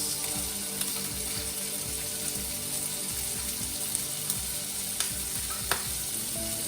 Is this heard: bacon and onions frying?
yes